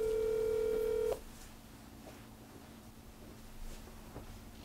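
A telephone being dialed to connect a call on a Korean Christian prayer broadcast: a steady series of touch-tone beeps for about a second, then quiet line hiss with faint clicks.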